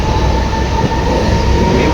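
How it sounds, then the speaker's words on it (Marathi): A train stands at a busy rail station while passengers board, giving a loud, steady, close rumble and hum that fills the short stretch without a break. "आम्हाला आता ट्रेन भेटली आहे."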